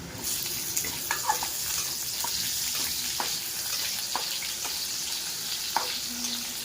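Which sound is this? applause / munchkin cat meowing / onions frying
onions frying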